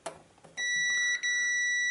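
A digital multimeter set to continuity mode beeps while testing a fuse on a Pride Go-Go mobility scooter, giving a sustained high electronic tone with a brief dip in the middle, preceded by light handling clicks.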